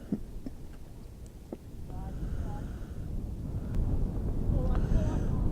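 Strong gusts of wind buffet the microphone at a hilltop baseball field, a low rumbling roar that builds steadily louder toward the end, with faint voices now and then beneath it.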